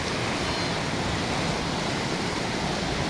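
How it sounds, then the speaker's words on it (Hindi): Water flows down an irrigation canal in a farming area, a steady, loud, unbroken rush with no voices over it. "शानदार तरीके से बहती हुई नहर"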